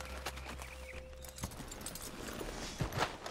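A horse in the video game Red Dead clip-clops with a few scattered hoof beats, moderately close among other game noises and a faint tone.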